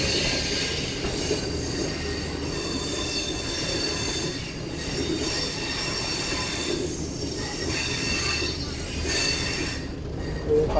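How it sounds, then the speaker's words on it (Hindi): A train arriving at Sehwan Sharif railway station, with loud sustained wheel squeal and a steady rolling rumble over the rails throughout as it pulls in, no voices present. "फाइनली ट्रेन हमारी पहुंच चुकी है सेवन शरीफ रेलवे स्टेशन पर।"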